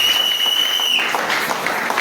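Church congregation at a thanksgiving service applauding God, a dense wash of clapping from a crowd that carries on throughout, with a whistle-like tone at the start.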